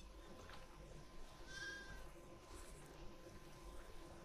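Sheep bleat on a farm in The Last of Us Part II, one faint wavering bleat mid-clip over quiet outdoor ambience, with soft wavering cries around it.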